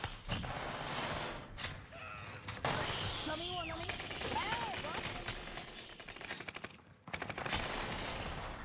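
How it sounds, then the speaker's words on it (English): Rapid gunfire close by in the shooter game Warzone, bursts scattered across the moment over a busy game soundscape, with players talking over it. "Somebody's shooting close."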